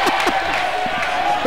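Volleyball crowd in a high school gym cheering and shouting during a girls' match between the Winner Lady Warriors and Lyman County Lady Raiders, a steady roar of voices with brief louder bursts throughout.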